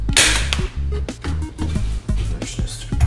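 A DeWalt DCN692 cordless nail gun is fired in its second, rapid mode, making a quick series of sharp, close cracks and thumps over about three seconds.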